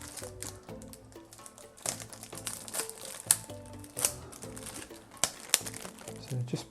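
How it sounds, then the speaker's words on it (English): A plastic bag and elastic band are pulled off a replacement kettle spout, producing close, uneven crinkling and rustling with sharp snaps and taps. "What we're going to do firstly is just remove this bag and the elastic band"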